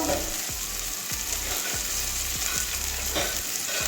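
Fish curry with slit green chillies sizzles steadily in a pan, a continuous close fry with repeated soft scraping strokes as it is stirred, no voice over it.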